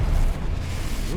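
Confringo blasting spell cast during a boss fight in Hogwarts Legacy: a heavy, rumbling explosive boom that hits loudly at once, then a low roiling tail with a faint rising whoosh near the end.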